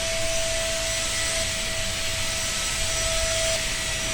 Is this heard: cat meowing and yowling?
no